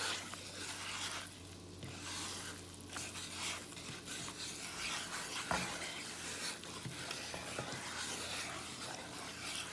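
A roux being stirred on an electric stove to work out the lumps, soft repeated scraping and squishing strokes over a faint sizzle, quiet and close, with no talking.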